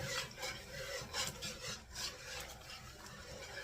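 A spoon scrapes and rubs steadily through thick strawberry rhubarb pie filling as bottled lemon juice is stirred in at a boil, a soft, close, rhythmic rasping of utensil against the pot.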